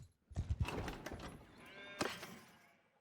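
Hooves clop in a quick cluster, then a horse whinnies in the video game Mount & Blade II: Bannerlord, moderately near but quiet overall, with no talking.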